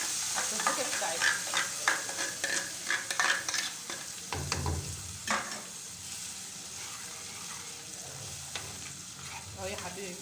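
Blended fava beans are stirred into a sizzling sauce in a pan, a steady frying hiss broken by scraping strokes and soft clatters of the spoon, close and alone.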